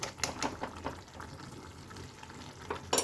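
A pan of young jackfruit curry sizzles softly after a spoonful of ghee goes in, with faint frying crackle and a few light clinks of stirring close by.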